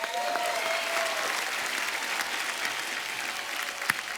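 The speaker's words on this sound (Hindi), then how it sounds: "जोरदार तालियां" A burst of enthusiastic applause from a large studio audience at a TV comedy show, steady and full throughout, with a few sharper claps standing out near the end.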